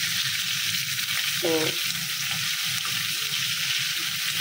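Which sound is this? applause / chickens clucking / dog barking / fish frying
fish frying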